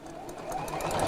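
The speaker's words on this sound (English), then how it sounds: "so again we just sew all the way around" A sewing machine stitches around the edge of a Christmas apron in a brief, steady, close mechanical whir of rapid needle strokes, heard alone.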